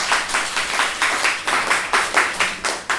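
Audience applause at a pre-concert talk for a Vienna program, a steady wash of clapping hands pulsing in waves, fairly close and full, with no talk over it.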